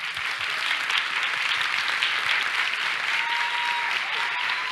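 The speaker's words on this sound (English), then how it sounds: "everyone, please, another round of applause for Magatte." An audience at a liberty and democracy forum gives sustained applause after a keynote speech. Broad, even clapping fills the room for nearly five seconds, with faint voices underneath.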